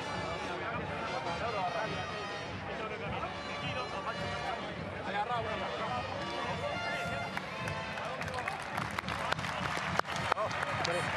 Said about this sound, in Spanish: Los aplausos para Fermín Martínez.